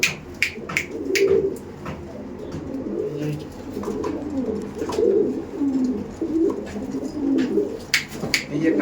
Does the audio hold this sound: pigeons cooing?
yes